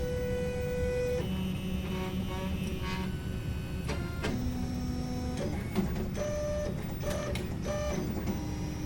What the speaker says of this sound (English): the extruder head will measure the height of the turntable and compensate for any